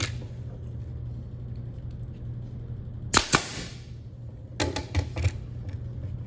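A pneumatic nail gun drives nails into 2x4 boards during a woodworking build, two sharp bangs followed by a cluster of quicker snaps that include a dry fire, all close and loud over a steady low hum.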